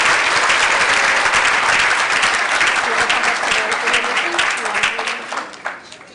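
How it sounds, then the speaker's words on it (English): Loud, dense applause from a dinner audience honoring award recipients, sustained for several seconds before thinning out and tapering off at the end. "So let's give them a round of applause."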